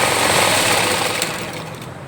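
A sewing machine stitches a pair of men's shorts with a loud, close, continuous buzzing whir that eases off slightly toward the end, with no voices.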